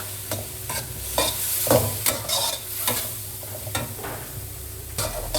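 Pork belly, green beans, red chili and onion in roasted chili paste with oyster sauce sizzle in a hot pan, with repeated scraping strokes of a spatula stirring at close range and no talk.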